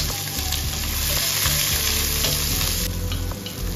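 Two sliced onions fry in hot oil with cloves and cardamom, a dense, continuous sizzle close by with occasional scraping stirs, steady and loud throughout.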